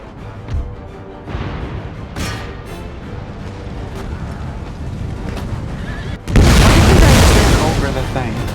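Total War: Empire combat noise with a sudden loud booming blast that swells and lingers, preceded by rumbling action and clattering effects.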